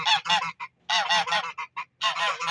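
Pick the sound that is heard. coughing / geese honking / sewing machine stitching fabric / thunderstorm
geese honking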